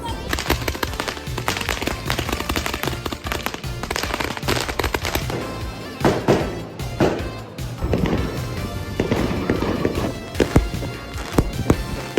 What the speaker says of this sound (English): Fireworks in China really are something else.